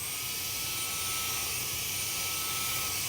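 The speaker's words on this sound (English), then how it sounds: "Just vacuum up the dirt." A handheld Dustbuster vacuum cleaner running on a car's carpet, a steady loud whine with a high hiss, continuous and close, with no speech.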